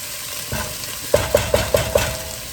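Zucchini cooking in a pan on a stove over medium heat, with a soft sizzle under five evenly spaced clinks or taps of a utensil stirring it, close and fairly quiet.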